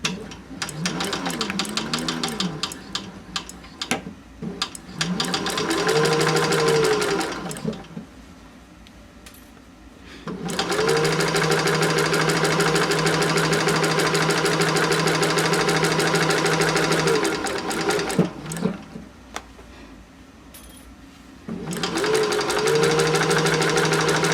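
A sewing machine stitches a quarter-inch seam on a denim slip pocket for an upcycled jeans tote, running in long steady bursts with brief pauses between, loud and close.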